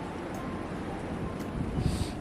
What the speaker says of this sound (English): Sorry guys if the so much noise. It's very windy today.